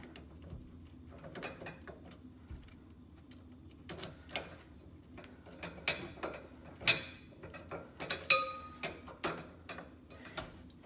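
Small metallic clicks and ticks from a key turning in a Curt tow hitch lock, a series of sharp, close, quiet taps and rattles with no talk.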